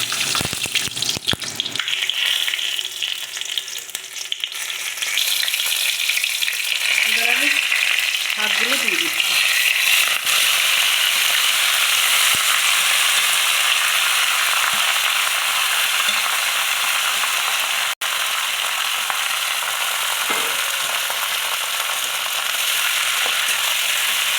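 Lightly fried shrimp with panch phoron and dry red chilies crackling in hot oil in a pan, a loud, steady, dense sizzle that runs throughout, close up, with a few faint knocks.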